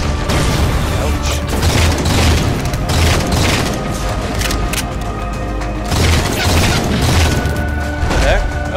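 Loud, continuous battle noise in Halo 4 Spartan Ops, with heavy booms and crashing blasts layered over constant gunfire and shooting throughout, dense and close.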